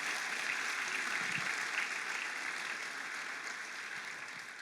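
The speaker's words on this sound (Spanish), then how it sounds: "Fuerte ese aplauso al Espíritu Santo en esta mañana." A church congregation applauds steadily at a Sunday morning service, a dense even wash of clapping that holds for several seconds and tapers slightly toward the end.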